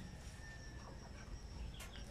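Rooster and chickens on a small backyard poultry farm raising chicks, clucking faintly and distantly in a quiet pen, with no voices over them.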